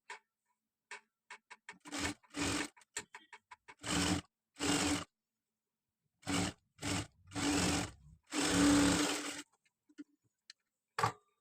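A sewing machine stitches a blouse in short bursts of rapid, close mechanical whirring, separated by silent pauses.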